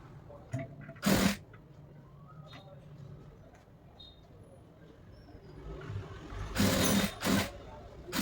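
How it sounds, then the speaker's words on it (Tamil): A sewing machine stitches around a frock neckline in two short bursts, one early and a longer one near the end, with quiet talking and handling in between. "நெக்கை திருப்பிட்டு இங்கே ஒரு ஸ்டிச் போடலாம்."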